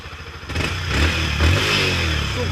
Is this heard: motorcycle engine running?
yes